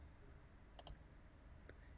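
Mouse clicks on a button in a sentiment analysis application, a quick close pair of crisp clicks followed by a fainter single click, quiet and alone in a low room hiss.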